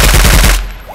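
Rapid automatic gunfire from a gun in the Roblox video game, about six loud, evenly spaced shots in quick succession that stop abruptly and leave a short fading tail.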